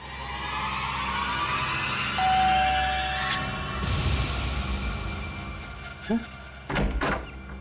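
A door is opened in a scene from the Hindi TV crime drama CID. Short clunks and knocks come late, over a humming background with music-like tones.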